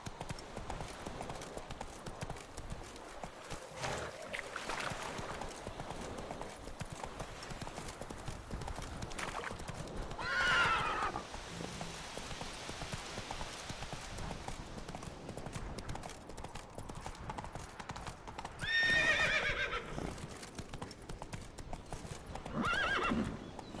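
Roach, a horse in The Witcher 3, clip-clops along with steady hoofbeats and breaks into a couple of loud neighs and whinnies, set against ambient game sound.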